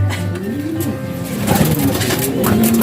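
A racing pigeon coos repeatedly, its low rolling calls close and clear, while voices murmur softly in the background.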